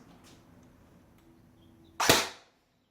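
An ARES VZ.58 Compact airsoft gun fires a single 0.28 g Elite Force Bio BB, a short, sharp, close crack after a quiet pause, fading quickly.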